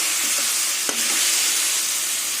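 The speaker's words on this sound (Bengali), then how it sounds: "এবার সামান্য জল দেবো জলটা দিলাম যাতে লঙ্কার গুঁড়োটা পুড়ে না যায়" Water is splashed into chilli powder frying in oil for a pointed gourd chorchori, giving a loud, steady hissing sizzle with one sharp knock of a utensil partway through.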